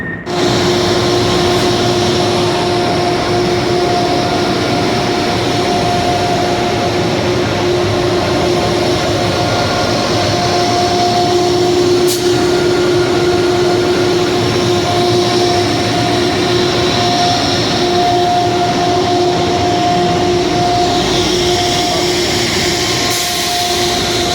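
Amtrak train 715 sits at a station with a steady, loud mechanical rumble and a sustained tonal whine throughout, and no voices.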